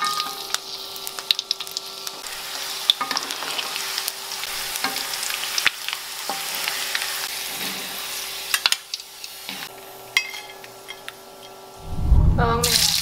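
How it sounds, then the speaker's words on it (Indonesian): Garlic fries in hot oil for Balinese sambal embe, a steady close sizzle with scattered clicks of stirring, swelling into a louder crackling burst near the end. "Pertama kita goreng dulu bawang putihnya."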